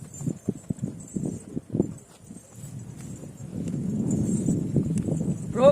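A mare pulling a cart clip-clops along with a steady, distinct hoof rhythm close by, then the clopping fades into a low rumbling roll of the cart wheels.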